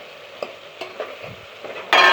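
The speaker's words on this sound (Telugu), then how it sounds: "వీటిని బాగా ఫ్రై చేసుకోవాలి" Vegetables for a vegetable egg biryani frying in a pan, with a steady soft sizzle, a few light spatula stirs and scrapes, and a louder burst of sizzling at the end.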